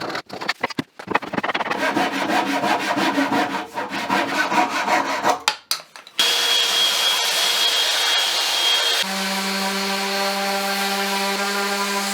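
Close, rough rasping of raw lumber being planed for several seconds, followed by a steady droning power-tool whine that runs to the end.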